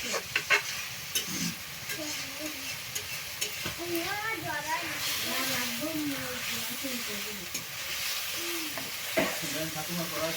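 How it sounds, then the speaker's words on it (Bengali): Chicken coated in spices is stirred around a frying pan, with steady sizzling and scraping throughout while a person talks over it. "চিকেনটার সাথে সুন্দর করে মশলাটা মিশিয়ে নিয়ে"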